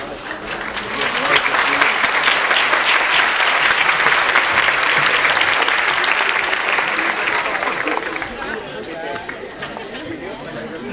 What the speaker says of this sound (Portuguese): Podem fazer uma salva de palmas para seus filhos